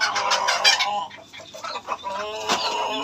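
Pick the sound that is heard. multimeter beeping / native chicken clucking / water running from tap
native chicken clucking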